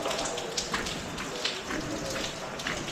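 Heavy rain pours in a steady, dense hiss that fills the whole stretch, close and loud, with small splashy peaks scattered through the downpour.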